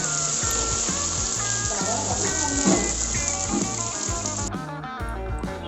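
About one and a half kilos of sliced onions frying in a pan for Malabar mutton biryani, a steady close sizzle running under prominent background music.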